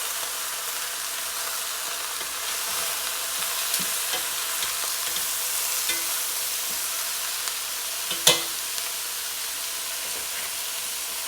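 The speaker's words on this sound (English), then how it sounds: "So mix all this together." Braised lamb shank ingredients being stirred and mixed in a hot pan, a steady sizzle and hiss with faint scraping strokes and one sharp clink of a utensil against the pan.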